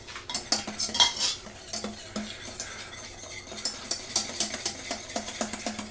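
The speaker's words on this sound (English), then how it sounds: "I think I am going to go for the whisk." A whisk beats garlic soup ingredients in a bowl with quick, uneven metallic clinks and scrapes, close and fairly loud, and the strokes speed up toward the end.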